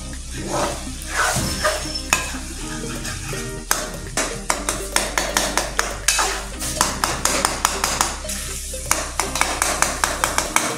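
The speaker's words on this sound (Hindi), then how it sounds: "अब हम इसे जो है अच्छी तरीके से भूनेंगे।" A dish being fried and stirred in a pan over low heat, with steady sizzling and repeated scraping strokes of a spoon against the pan running throughout, close and fairly loud.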